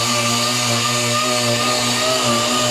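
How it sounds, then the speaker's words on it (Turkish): Power sander working body filler on a car panel in a repair shop, a continuous loud whirring drone with steady motor harmonics and no pauses. "Şimdi ise zımparama işlemini güzel bir şekilde ustamız yapıyor."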